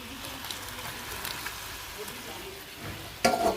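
Paneer being added to a curry in a pan: steady close sizzling and frying with stirring scrapes, ending in a louder burst of sizzle and clatter as the pieces go in.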